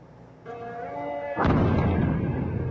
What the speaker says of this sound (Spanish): La secuencia hace parte de las explosiones en una de las dos refinerías que fueron objeto de ataques este fin de semana